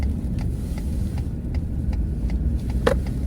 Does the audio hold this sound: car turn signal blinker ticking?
yes